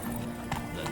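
Roach, a horse in The Witcher 3, gallops with rapid hoofbeats under a steady game soundscape, a brief accent near the middle, while a man urges her on.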